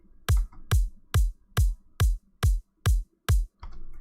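A Serum 2 synthesized kick drum run through a ring mod filter, seven steady loud hits with a crisp attack and heavy low thump, then a brief softer tail of noise at the end, no voices.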